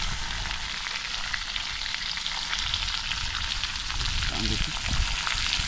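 Large freshly caught fish fry in hot oil with a dense, continuous crackling sizzle that stays loud and steady throughout, with faint voices briefly underneath near the end.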